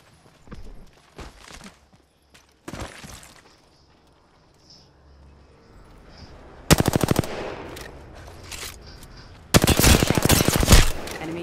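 Gunfire from a match of the video game Apex Legends: scattered single shots early on, then two loud sustained bursts of rapid automatic fire with no talk over them.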